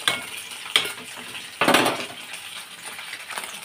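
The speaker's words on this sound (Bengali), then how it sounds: "আর আমার ছেলের জন্য কাতলা মাছ ভাজা হবে, এই যে দেখুন।" Katla fish frying in a pan makes a steady soft sizzle, broken by a few sharp scraping stirs of a utensil against the metal, close and without talk.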